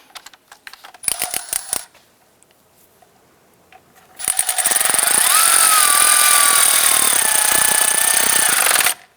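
A power tool snugs down the bolt on a front ABS wheel speed sensor of a 2008-2013 Nissan Rogue, with a short burst of clicks and taps, then a loud, steady close whir lasting several seconds before it cuts off.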